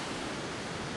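Strong wind sweeps across Mancora beach in Peru, making a steady, dense, hissing rush with no breaks and no voices.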